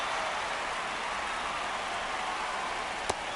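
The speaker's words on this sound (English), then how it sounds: "This rain is not letting up." Steady rain falling over a ballpark in MLB The Show 26, a dense, even hiss filling the scene at moderate volume, broken once near the end by a single sharp tap.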